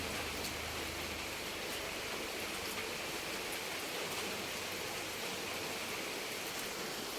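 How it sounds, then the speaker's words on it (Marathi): Rain pours steadily outside, a dense, even hiss with no pauses, no voices, and faint drips throughout. "मस्त बाहेर पाऊस पडतोय"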